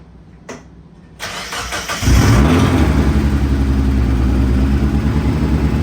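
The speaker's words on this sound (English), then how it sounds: "do a little bit of cranking. Let's start her up." A forged turbo Mazda Miata engine cranks briefly, then catches and roars to life, settling into a loud, steady idle with a deep rumble.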